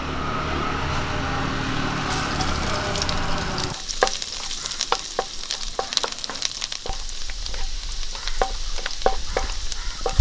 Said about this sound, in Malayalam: അതിലേക്ക് വെളുത്തുള്ളി അരിഞ്ഞ് ഇട്ട് കൊടുക്കാം